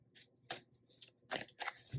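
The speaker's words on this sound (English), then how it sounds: "I'm gonna go ahead and shuffle the cards" Tarot cards being shuffled and split in a few brisk riffling bursts with quiet gaps between them, fairly close and alone without talk.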